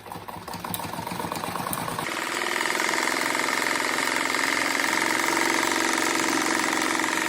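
Sewing machine stitching seams on a patchwork rug, a steady fast mechanical whir that rises after a short rhythmic start and then runs evenly and loud, close by.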